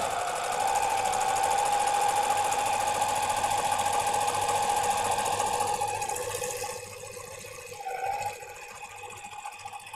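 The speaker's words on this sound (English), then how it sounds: "now I'm gonna serge around the skirt" A serger stitches around the edge of a knit pencil skirt with a fast, steady mechanical whir close by, slowing and easing off toward the end with a brief burst of stitching.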